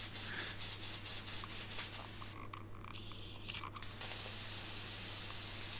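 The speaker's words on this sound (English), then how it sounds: "Clean out Mr. Airbrush, because I don't know about you, but I am terrible for forgetting to clean out my airbrush." An airbrush hisses in a fine, steady spray while being cleaned out, with a brief gap and shifts in pressure partway through, close and fairly loud.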